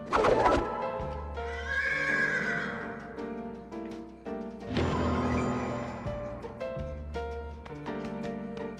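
A horse in a video game neighs and whinnies several times, loud and close, with hoof clip-clops in between against a quiet background.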